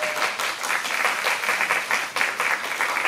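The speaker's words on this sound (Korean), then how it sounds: "뜨거운 박수 부탁드리겠습니다." Sustained applause from an audience at a Korean TV drama press event, dense clapping steady and fairly loud throughout with no talk over it.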